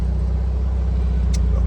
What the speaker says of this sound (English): That unmistakable sound of a Volkswagen air-cooled engine.